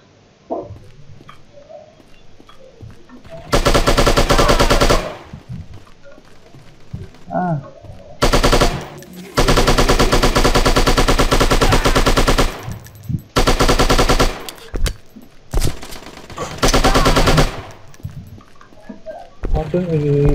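Loud automatic AK rifle fire in a shooter video game, several long sustained bursts at close range separated by short gaps, with quieter game sounds between them.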